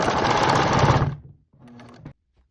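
Sewing machine stitching the folded hem of a skirt, running in a fast, steady close buzz for about a second, stopping, then a shorter softer burst of stitching after a brief pause.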